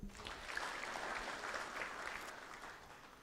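Delegates at a Sacco annual delegates meeting clap together in welcome, a steady, fairly distant wash of applause lasting a few seconds.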